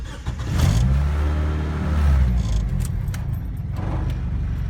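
A car pulls away on a test drive after repair work, its engine note rising and falling under a few small clicks and rattles, fairly close.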